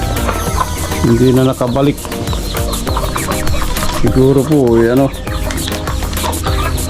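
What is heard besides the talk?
backyard chickens clucking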